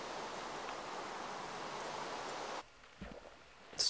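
Steady rushing flow of water in the Minecraft video game, a broad even wash that fills the first two and a half seconds, then cuts off to quieter scattered sounds.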